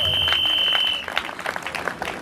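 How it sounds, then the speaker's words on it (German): Crowd applause at an outdoor rally on a town market square, a burst of clapping that fades after about a second into scattered claps with a steady tone ringing over it. "Ja, nochmal einen Applaus."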